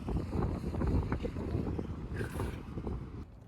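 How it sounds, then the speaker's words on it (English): Wind blowing outdoors, a steady low rushing roar buffeting the microphone, close and continuous throughout with a brief gusty swell near the end. "the wind is out again"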